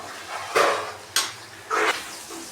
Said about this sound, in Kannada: ನೋಡಿ, ಈಗ ಈ ಥರ ಚೆನ್ನಾಗಿ ಫ್ರೈ ಮಾಡ್ಕೋಬೇಕು.